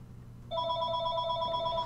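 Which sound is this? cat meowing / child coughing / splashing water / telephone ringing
telephone ringing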